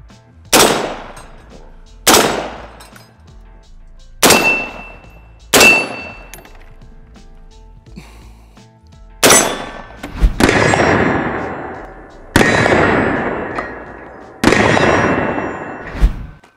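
Loud .308 rifle shots from a SCAR 17S or AR10, eight sharp reports in a steady, evenly spaced series, the later ones ringing out with longer echoing tails, no voices.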